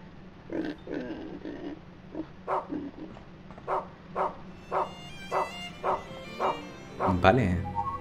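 Dog barking in the video game Rule of Rose, a steady series of about a dozen evenly spaced barks at moderate loudness, with someone talking over the start and end.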